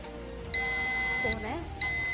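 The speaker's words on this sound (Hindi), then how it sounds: "फिर आपने बजर दबाया है" A game show buzzer sounds on a televised Ramadan quiz and debate segment: a loud electronic beep holds for nearly a second, then a second beep cuts in after a short gap, with a voice talking underneath.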